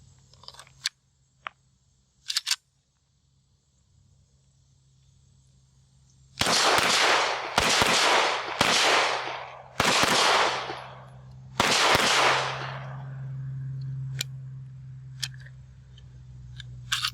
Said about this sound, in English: let's put the first mag through it